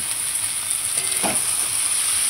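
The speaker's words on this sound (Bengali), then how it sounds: "আমার আলু, পেঁয়াজ, বটবটি খুব সুন্দর করে ভাজা ভাজা হয়ে গেছে।" Potatoes, onions and long beans fry in a pan with a steady, loud sizzle that holds even throughout, with a faint stir or shift midway and no voices.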